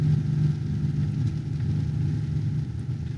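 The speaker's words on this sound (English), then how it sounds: "You can hear that diesel engine brake." A 2019 Ram HD diesel pickup rumbles with its engine brake engaged, giving a steady, moderately faint low drone that holds evenly for a few seconds with no talking.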